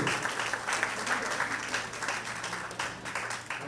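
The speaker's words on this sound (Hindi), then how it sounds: "एक बार जोरदार तालियां मनमोहन जी के लिए।" An audience at an annual day celebration applauds loudly for Manmohan ji, a dense sustained wash of many hands clapping throughout.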